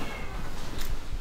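Cats meowing inside the cat house of an animal shelter, loud close meows overlapping in a busy, noisy room with no speech.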